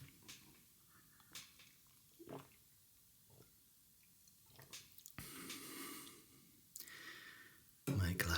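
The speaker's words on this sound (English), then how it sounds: "So I've got a drink of water here just to clear my palate," Up-close sips and swallows of water to clear the palate between chocolate bar tastings, with soft wet clicks, a sigh and a louder liquid slosh near the end, quiet and intimate.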